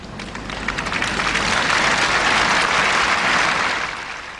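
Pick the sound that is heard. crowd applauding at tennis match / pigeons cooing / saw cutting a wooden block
crowd applauding at tennis match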